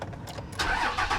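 A Jeep Trackhawk cranks and fires up, a brief starter whir giving way to a loud, steady engine roar that settles in close and clear, with no talking over it.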